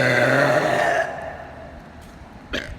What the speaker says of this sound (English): I'm gonna do some burps for you.